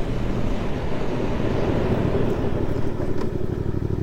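Suzuki GSX-8S motorcycle slowing under combined front and rear braking on a test ride, a steady low engine and road drone heavy with wind rush, fairly loud and close, with no talk.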